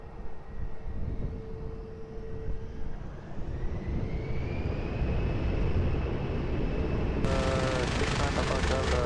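An airBaltic airliner takes off from runway 20 at Lisbon Airport, its engine roar swelling into a loud, steady whine heard from a distance, with rising tonal hums and a crackly burst near the end.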